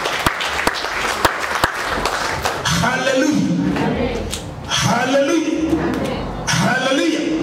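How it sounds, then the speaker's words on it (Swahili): A church audience claps for prophets during a Swahili sermon: scattered sharp claps at first, then a steady wash of applause under a preacher's ongoing speech. "Tuwapigie makofi watumishi wa Mungu manabii."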